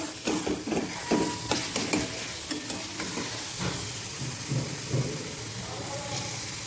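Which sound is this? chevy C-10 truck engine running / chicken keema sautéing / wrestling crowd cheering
chicken keema sautéing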